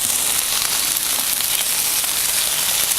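Okra frying in a pan on the stove, a steady, dense sizzle that holds evenly from start to finish, close and uninterrupted, with no voices over it.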